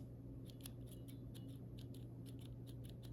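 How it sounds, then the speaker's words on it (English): Stock silver linear mechanical keyboard switch pressed repeatedly, a faint rapid series of light clicks with slight spring ping, quiet and close. "There's your stock, silver."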